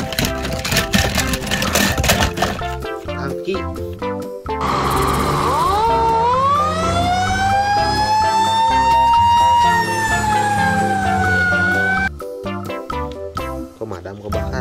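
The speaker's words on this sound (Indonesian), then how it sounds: "Pemadam kebakaran." A toy fire truck siren rises into a sustained electronic wail for several seconds, loud and near, preceded and followed by busy rattling toy sounds and music.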